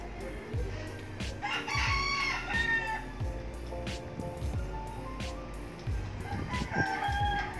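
A rooster crows repeatedly amid steady clucking from several chickens, the yard busy and close with overlapping calls.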